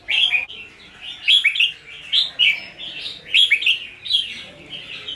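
Crested bulbul songbird, a red-whiskered type with a deep dark bib, calling repeatedly in clear bright phrases, several bursts of chirping notes in an uneven rhythm, fairly close, with no talk.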